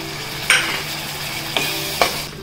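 Masala paste for Maharashtrian mutton rassa sizzles in hot oil in a pan, with a steady frying hiss broken by a few sharp scraping clicks of a spoon stirring, close up and with no one speaking.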